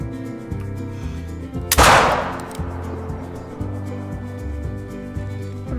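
A single loud hunting rifle shot rings out in theHunter: Call of the Wild, a sharp blast that decays into a rumbling echo over steady game background music.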